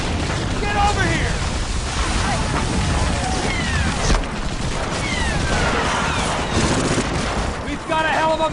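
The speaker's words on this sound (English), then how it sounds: "As bullets whiz by your head from enemy chain gun fire" Enemy chain gun fire in a Medal of Honor Frontline Normandy beach battle: dense, continuous gunfire and explosions roar loudly throughout, with shouting voices mixed in over the chaotic combat din.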